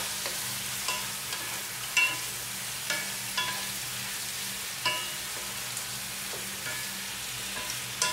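Fresh marinated chicken fries in a pan, giving a steady soft sizzle broken by regular scraping and stirring clicks from turning the pieces, with no talk.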